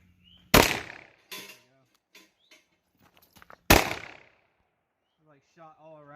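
A Taurus Judge Public Defender Polymer revolver fires BB shot loads at an outdoor target: two loud, sharp reports about three seconds apart, each with a short decaying tail, with someone talking between and after them.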